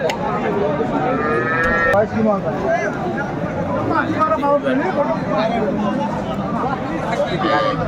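Cattle at a rural livestock market where cows with calves are sold, with repeated moos heard over constant crowd chatter and nearby voices.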